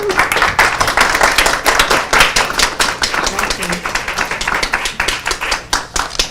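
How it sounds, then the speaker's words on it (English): Lively applause at a city council work session, rapid overlapping claps filling the room at an even, loud level with murmured voices mixed in. "I just wanted to applaud Detective Feltman for doing that."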